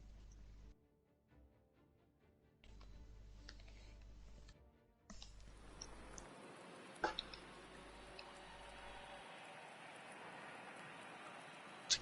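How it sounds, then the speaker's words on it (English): Light rain patters steadily in the racing game Rally Fighters, a soft hiss of droplets over a low engine drone, with cuts in level and brief ticks. "Still light rain weather."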